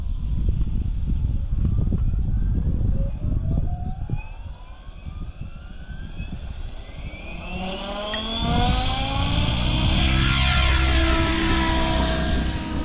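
An RC helicopter motor during autorotation practice, with a loud, steady whine that sinks as the power drops and then swells and climbs again as the motor spools back up. No one talks.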